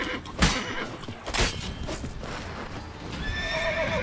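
A horse in The Witcher 3 whinnies loudly near the end, with clopping hooves and two sharp thuds earlier over a steady outdoor game ambience.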